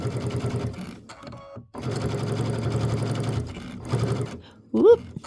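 A sewing machine runs along a quilt flange seam on a small Christmas wall hanging, in short bursts of fast rhythmic stitching separated by pauses, while someone talks over it.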